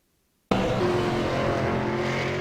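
Race cars roaring around Five Flags Speedway in a sim racing game, a loud steady engine drone that starts abruptly after half a second of silence, with tonal whine throughout and a hint of tire noise.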